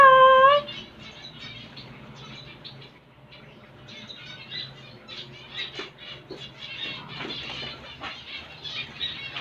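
Pet lovebirds chirp and squawk in a busy flock, with bursts of wing flapping; a loud call opens, then dense overlapping tweets continue close by without talk.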